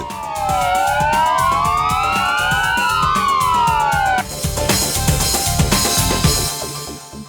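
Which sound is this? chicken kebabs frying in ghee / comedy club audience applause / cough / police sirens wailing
police sirens wailing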